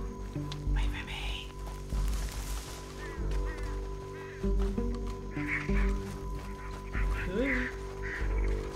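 Ducks quacking in the Red Dead Redemption 2 game world, several short nasal calls scattered across the clip over steady game ambience, partly under talk and background sound.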